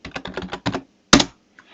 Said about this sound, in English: Now, just type Python.